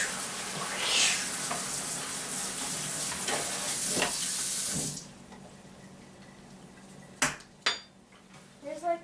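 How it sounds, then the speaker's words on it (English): Homemade ginger beer pours through a strainer from one bowl into another, a steady rushing splash for several seconds that stops abruptly, followed by a few sharp clinks of bowls and utensils. "our liquid from this bowl into this one as we strain it"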